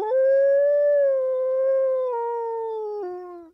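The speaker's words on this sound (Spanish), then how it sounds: "aullidos de una manada de lobos hambrientos que salen a buscar la cena" A single long wolf howl, clear and close, holds a steady pitch and then steps down twice before cutting off, alone against silence.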